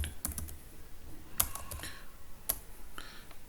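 Quiet typing on a computer keyboard while writing C# code, with scattered individual key clicks and short bursts at an irregular pace, close and faint, with no talking.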